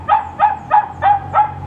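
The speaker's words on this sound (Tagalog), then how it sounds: "Tumatahol." A tethered dog barks six times in an even, regular rhythm, each bark loud and close, with quiet between them and no talking.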